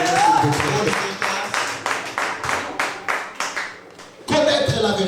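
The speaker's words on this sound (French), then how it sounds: "Acclame très fort pour la gloire de Jésus." A church congregation clapping in rhythm during worship, a run of steady loud claps mixed with voices, under a preacher's speech at start and end.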